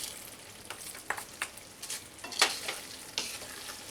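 Sugar is stirred into ridge gourd (jhinge) cooking in a pan, soft sizzling under a run of quick scraping and tapping strokes of a spoon against the pan, close and moderately loud, without voices.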